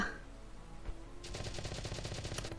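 Rapid gunfire in the video game Valkyria Chronicles: a single shot early, then a fast rattling burst of repeated shots starting partway through, quiet overall.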